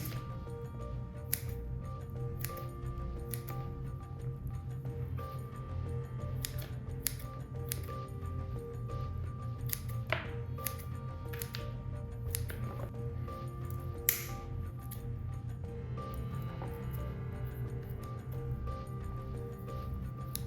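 Scissors snipping long roots off a plant being repotted, a steady series of crisp, close clicks spaced irregularly over a low background hum.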